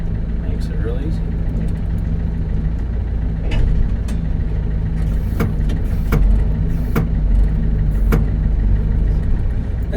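An articulated tractor's engine runs steadily with a loud, low rumble, while clanks and knocks from the machine ring out now and then. Someone talks over the engine noise.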